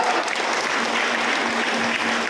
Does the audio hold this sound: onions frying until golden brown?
no